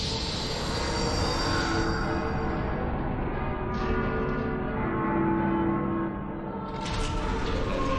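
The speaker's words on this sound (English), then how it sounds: "Bells, I guess." Bells ring in Final Fantasy 13, a sustained layered chime of overlapping tones that swells and fades over several seconds with no talking.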